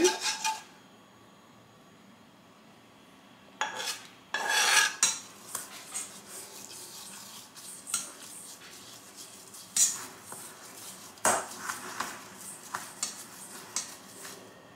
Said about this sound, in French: Je reprends mes petits biscuits et je vais ajouter le beurre fondu.